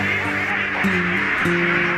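Several farmed ducks quack loudly and continuously nearby, their nasal calls overlapping in a busy chorus.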